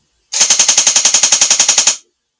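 Close, loud burst of rapid full-auto fire from a Double Eagle M904E electric airsoft gun on a 7.4V LiPo battery: about sixteen crisp, evenly spaced cracks over under two seconds, then it stops.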